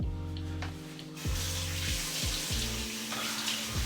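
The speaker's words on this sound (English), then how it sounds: "now that I'm done washing my face" Warm tap water runs steadily into a sink during face washing, with irregular splashing and dipping bursts as hands scoop and rinse, nearby.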